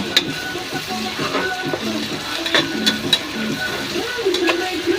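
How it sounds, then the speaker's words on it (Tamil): Ginger sautéing in a frying pan for chicken biryani, a soft continuous sizzle with light stirring scrapes throughout, close and even. "இஞ்சி போட்டு நல்லா வதக்குங்க"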